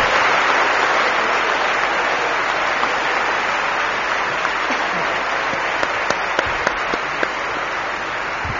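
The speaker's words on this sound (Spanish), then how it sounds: "pido un fortísimo aplauso para Loli y para el alcalde" Loud, continuous audience applause fills a night event in Lugo, Spain, a dense steady roar of many hands clapping with a few sharper claps near the end.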